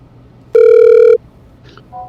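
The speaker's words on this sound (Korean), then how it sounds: "전화로 연결해 보겠습니다" A telephone ring tone sounds once as a call connects for a radio-style interview, a single loud steady electronic tone lasting about half a second, followed by faint brief beeps.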